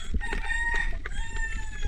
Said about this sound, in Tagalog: May kasamang manok.